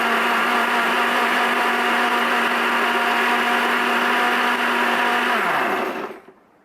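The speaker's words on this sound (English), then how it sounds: "so I'm just going to blend it up. This blender is awesome" A blender whirs steadily as it blends vegetables for soup, a loud, even motor drone with a broad high-pitched whine running alone for about six seconds, then the motor winds down and cuts off.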